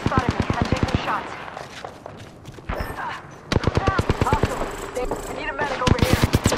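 Bursts of automatic gunfire in an Apex Legends match, sharp repeated cracks coming in quick rapid strings with short pauses, mixed with voice callouts from the game.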